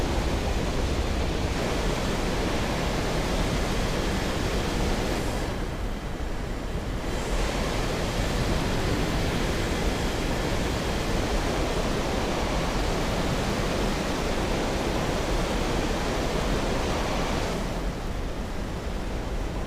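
Dense, steady jet aircraft rumble and roaring wind noise from War Thunder at near-sonic speed on the Cargo Port map, loud and continuous with brief dips, no talk.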